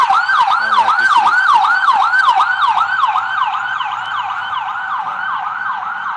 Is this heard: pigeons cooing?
no